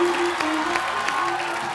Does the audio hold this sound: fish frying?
no